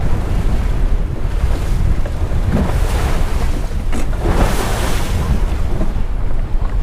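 Rough ocean waves crash and surge continuously offshore of Florida, heard from a small fishing boat, with heavy wind buffeting the microphone throughout.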